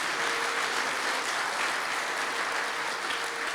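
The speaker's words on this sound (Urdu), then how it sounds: "ایمان رکھتے ہیں تو زوردار تالیاں خدا کے لیے بجائیں" A Resurrection Day church audience applauds loudly for God, a dense, even roar of clapping that holds steady from start to finish.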